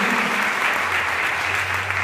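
A church congregation applauds steadily throughout, a dense, even wash of clapping with a low hum underneath and no speech over it.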